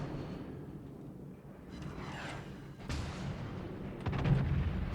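Warship guns fire high-explosive shells in the naval battle game World of Warships, with a rumbling low barrage and sharp booming bursts near the middle and end over a continuous battle din.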